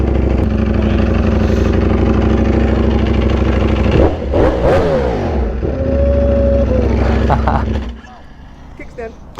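A Ducati V4R motorcycle fitted with a new exhaust runs loud and close, with a deep rumbling idle and blips of revving that rise and fall before the engine note drops away near the end; people talk briefly over it.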